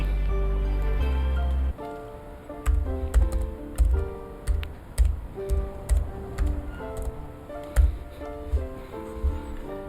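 A phone number typed on a computer keyboard: a run of light, irregular key clicks mixed under a louder, steady music track with a deep bass beat.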